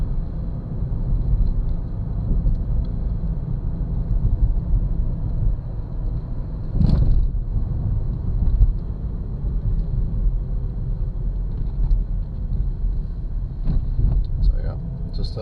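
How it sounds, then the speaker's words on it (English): A 2013 Kia Soul cruising along a road, its steady low engine and tyre rumble running continuously from start to finish, close and even with faint intermittent higher noises on top. "Just a pretty smooth driving little car"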